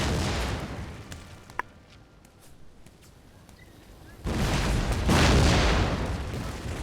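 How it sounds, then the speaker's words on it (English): Artillery fire in the Napoleon: Total War battle game: a howitzer shot lands with a short crack, then after a quieter stretch a loud, dense rocket barrage rushes and roars for several seconds. "So here comes a howitzer shot and a rocket barrage."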